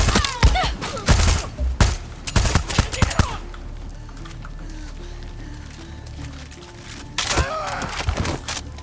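Gunfire rattles through Far Cry 6, with several close, loud bursts of rapid shots, then a quieter stretch of low ambient hum before another round of firing breaks out.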